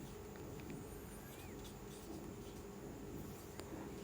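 Writing on a board during a physics lesson makes faint scratchy strokes, barely above a steady background hiss.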